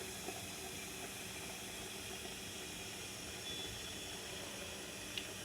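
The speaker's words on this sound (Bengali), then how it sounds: "শব্দ হয়তো শুনতে পাচ্ছেন পানি ফোটার" Water heating toward a boil in an electric kettle gives a steady, faint hissing and simmering wash with a few small ticks, no voices, holding evenly throughout.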